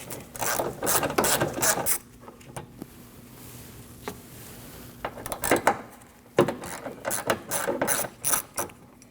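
A ratchet wrench loosening 10mm bolts on the liftgate of a 2003-2008 Subaru Forester, rapid close clicking in two separate bursts with a quieter pause between them.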